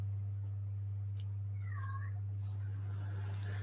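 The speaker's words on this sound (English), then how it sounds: "there's the cat meowing" A house cat gives a single short meow partway through, heard faint and somewhat distant over a steady low hum from a heater.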